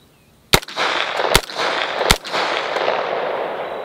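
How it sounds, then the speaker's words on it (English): Three sharp, loud gunshots from an LWRCI SMG 45 submachine gun fired outdoors at homemade body armor, spaced roughly evenly with echoing decay after each. "Let's see if the SMG 45 LWRCI can defeat my homemade body armor down there."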